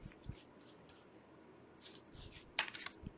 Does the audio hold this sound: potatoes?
no